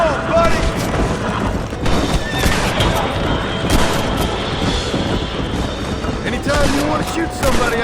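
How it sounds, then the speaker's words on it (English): Gunfire in the Red Dead Redemption video game, with scattered shots and booms mixed with horse whinnies and hoofbeats while characters talk over the action. "They're shooting right at me."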